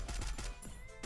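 Gunfire in a shooter video game, landing a headshot: a steady string of sharp, evenly spaced shots, about six in quick succession, loud and up close with no talking over them.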